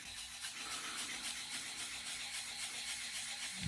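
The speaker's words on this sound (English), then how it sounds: "I'm just going to sand it out a little bit because I've already sanded it to 1000." Hand sanding of a guitar finish already taken to 1000 grit: a steady, close, soft abrasive rubbing with an even back-and-forth texture throughout, ending in a brief louder bump.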